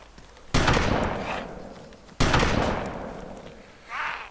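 Two loud, booming shotgun blasts from a sawn-off shotgun in the survival game DayZ, about a second and a half apart, each decaying slowly, followed by a brief fainter sound at the end.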